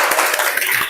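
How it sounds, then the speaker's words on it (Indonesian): Classroom students clapping for a classmate, a brief burst of dense, close hand claps that stays steady for under a second. "tepuk tangan buat Suartini"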